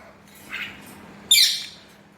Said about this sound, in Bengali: এখানে আমার দুটি টিয়ার ছানা আছে একটি ময়না আছে একটি ঝুটি শালিক আছে